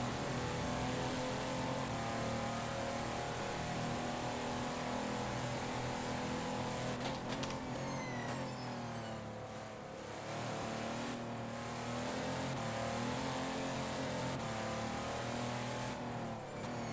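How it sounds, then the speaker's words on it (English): Onboard engine of the number 21 race car in a sim racing qualifying session at the 24 Hours of Le Mans, a loud sustained engine drone with gear shifts and brief revving dips, heard steadily without talk. "we are currently on board with the number 21 car, Christian Michel"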